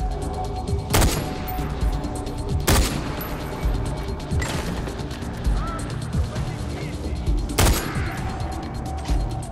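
Several sharp, loud sniper rifle shots crack out at irregular intervals over busy background noise in Far Cry 4.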